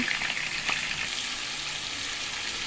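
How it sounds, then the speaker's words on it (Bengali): Potatoes hiss in hot oil in a wok over a village clay stove, a constant, even sizzle that fills the whole moment with no voices. "এবার কড়াইতে তেলটা গরম হয়ে গিয়েছে, আলুগুলো দিয়ে দিলাম কষার জন্য।"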